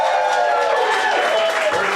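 Applause from a theater audience after a panel show, steady dense clapping filling the whole moment with some crowd noise mixed in, no speech over it.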